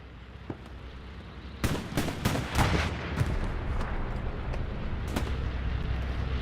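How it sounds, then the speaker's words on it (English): Bombing run in the Hell Let Loose game at Carentan: a burst of heavy explosions and booming blasts in quick succession, loud and close, then fading into a rumbling battlefield with occasional distant detonations. "Bombing run coming in to support."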